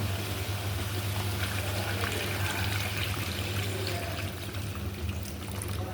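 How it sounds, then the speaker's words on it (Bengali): Gravy liquid pouring into meat that has been braising in a pan, a steady continuous watery trickle and gurgle holding at an even level throughout. "এবার একটু ঝোল দিয়ে দেবো"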